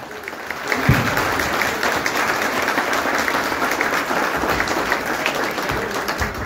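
An audience applauds at a pigeon flying club award ceremony, a dense, steady wash of many hands clapping together that holds loud and even throughout.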